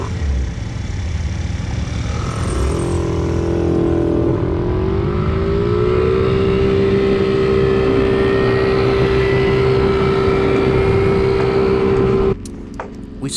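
Mopeds race along a Key West street, their small engines droning loudly and steadily, with pitch rising as they accelerate before the noise cuts off abruptly near the end.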